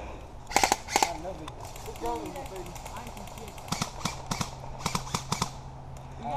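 Airsoft guns fire during an outdoor game: sharp snapping shots in quick bursts, some loud and near, others in rapid strings further off, with players' voices in between.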